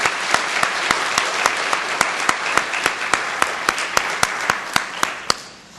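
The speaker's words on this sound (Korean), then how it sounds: "우리 하나님께 영광으로 박수 올리겠습니다" A church congregation claps at a Sunday service in Toronto, a dense wash of applause with a regular beat of sharper claps running through it, fading near the end.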